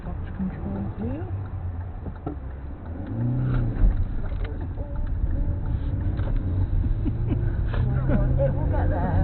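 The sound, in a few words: car driving in gear using clutch control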